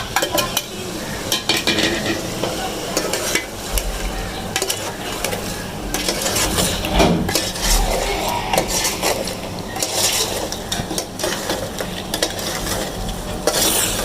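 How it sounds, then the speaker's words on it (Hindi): Spiced masala with tomatoes frying in a pan for chana dal gosht, with continuous sizzling and busy scraping and clinking of a utensil against the pan, close and fairly loud. "फिर जब तक मसाला भून रहा है"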